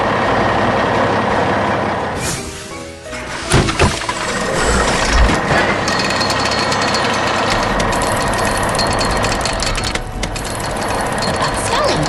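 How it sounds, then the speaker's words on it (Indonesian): A red tow truck in a 3D construction animation reverses with a steady, loud engine rumble and an airy hiss, plus a few knocks and clunks along the way. "Truk derek merah mulai mundur."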